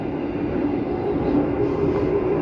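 Train running straight through Bekasi station on the DDT line, a dense, continuous rumble and rattle of wheels on track, loud and close throughout, with no voices.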